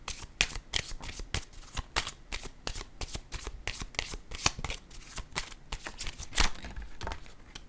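A deck of playing cards, pink cards among them, is shuffled over and over in a tarot-style reading, giving a close, fast rippling riffle of crisp slaps that runs almost nonstop, with no talking.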